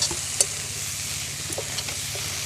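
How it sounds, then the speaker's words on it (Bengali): Prawns fry in a pan with a steady soft sizzle, broken by a few brief scrapes and clicks of stirring, close by and with no talk. "চিংড়ি মাছগুলো আমার ভাজা প্রায় হয়ে এসছে,"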